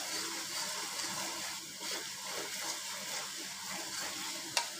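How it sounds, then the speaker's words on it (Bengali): Spice paste for a Bengali fish curry is stirred as it fries in oil, giving a steady, close sizzle with soft scraping throughout and one sharp clink near the end. "মশলাটা আরেকটু নেড়ে চেড়ে নিচ্ছি।"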